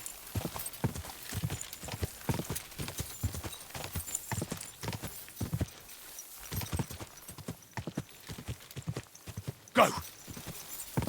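Horse hooves clip-clop steadily in the medieval video game Kingdom Come Deliverance 2, a rhythmic trot with a brief whinny, and a voice speaks a short word over it.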